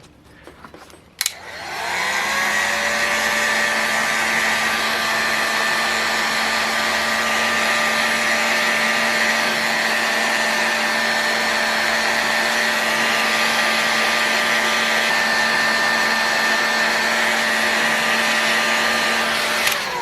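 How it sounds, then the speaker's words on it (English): After a click, a heat gun roars to life and blows a steady, loud, high whooshing whine for nearly twenty seconds while warming an OS 91 FX model engine crankcase, then cuts off at the end. "just heat this crankcase up, get this front bearing installed"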